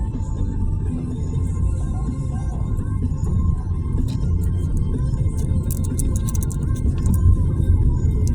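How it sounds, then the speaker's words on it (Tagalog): Steady road traffic on a highway heard from inside a moving car, a continuous low rumble of tyres and engine, with faint higher clatter and ticks late on. "Traffic."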